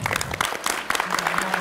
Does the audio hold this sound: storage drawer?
no